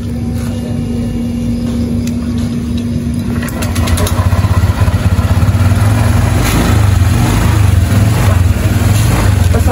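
A motorcycle engine runs steadily and loud close by, idling at first and then settling into a rougher, throbbing rumble with repeated revving pulses through the second half, with no voices over it.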